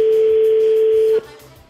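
A single long telephone ring tone sounds during a call to a French radio show, a loud steady electronic tone lasting about a second before cutting off.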